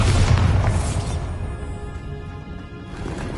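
A Bombarda blasting spell detonates in the Hogwarts Legacy video game: a loud, close, booming burst that hits at once, then a rumbling crash and debris that fades over a few seconds.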